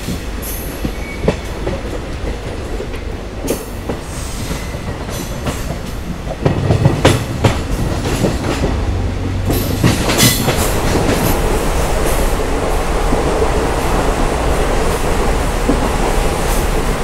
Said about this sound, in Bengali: এই স্টেশনে আমাদের এই ট্রেনটা স্টপেজ নেই।